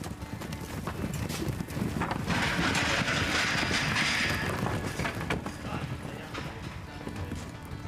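Newly captured wild horses are sorted in a pen: dense, overlapping hoof clatter and shuffling mixed with wind noise, with a bright rushing swell in the middle of the run.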